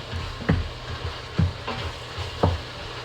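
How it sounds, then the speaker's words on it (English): Onions caramelizing in an Instant Pot with Italian seasoning for Puerto Rican spaghetti send up a steady close sizzle, with three distinct stirring scrapes at regular intervals and no talking. "Now the onions are getting caramelized and"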